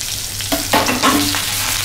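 Onion and ginger dropped into a hot pan for a Konkani bitter gourd stuffing, frying with a steady close sizzle that swells in two bursts as the pieces land and get stirred, with no talking.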